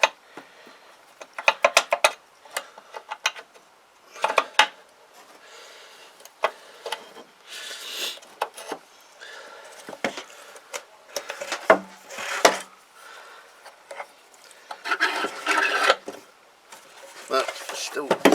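Kymco Agility 125 scooter sprocket jamming as it is worked by hand: irregular clicks, knocks and scraping bursts of metal parts, close and intermittent, with tapping and rattling between pauses.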